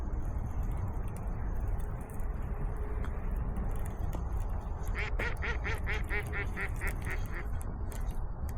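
A duck quacks in a quick rhythmic burst of about a dozen calls near the water while a fishing outing goes on, the calls rising over a constant outdoor rumble.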